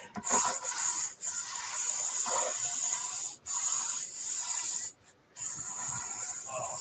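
Sanding a round wooden door plaque by hand, a steady raspy abrasive hiss in long strokes broken by short pauses, close and fairly loud with no talking.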